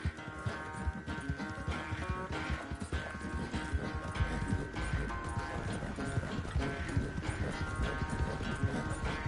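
A horse gallops in Red Dead Redemption 2, a steady rapid clip-clop of hooves running beneath layered game music and ambience, moderately quiet and continuous throughout.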